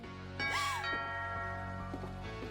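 A doorbell rings inside the video game What Remains of Edith Finch: a brief chime near the start, with faint softer tones later, over a low sustained ambient bed.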